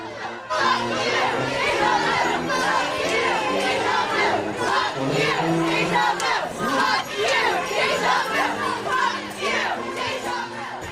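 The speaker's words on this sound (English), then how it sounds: "the crowd took the opportunity to vent their frustration at the Lusty's former landlords" A protesting crowd shouts and chants in frustration outside a strip club, loud overlapping voices in rhythmic bursts that swell and dip throughout.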